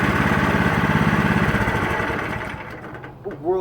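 A rebuilt Yerf Dog Murray go-kart engine runs at a steady, loud, pulsing putter and then fades as the kart moves away. A voice speaks near the end.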